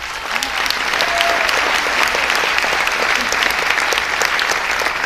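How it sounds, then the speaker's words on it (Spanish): A large audience applauds steadily, a dense, loud wash of clapping that continues without a break. "quiero que se den un fuerte aplauso"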